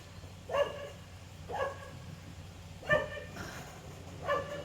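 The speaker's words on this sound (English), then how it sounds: "Sorry about the dog barking, guys." A dog barks four times at a steady, spaced rhythm, each bark sharp and moderately distant, over a low background hum with no talking.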